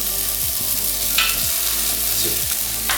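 Food searing in a hot pan, a loud continuous sizzle with a few brief clicks and shifts, close and without any talking.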